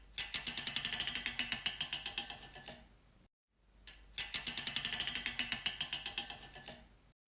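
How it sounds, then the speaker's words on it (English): Wooden chopsticks striking a metal radiator in two quick bursts of rapid, tinny, rattling hits, each burst slowing and fading before a short silence. "I just sort of wanted the tinniness of the chopsticks hitting the radiator"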